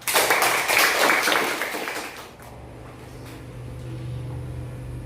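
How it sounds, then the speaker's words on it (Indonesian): Children in a classroom clap their hands together for about two seconds, loud and dense, then the clapping stops and only a low room hum and faint background noise remain. "Sekali lagi tepuk tangan untuk kita semua."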